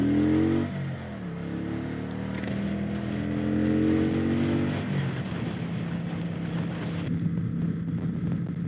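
A Kawasaki Vulcan 900 Classic motorcycle engine drones steadily and fairly loud while riding, rising in pitch as it accelerates, then settling into a rougher rumble with wind noise, no talking.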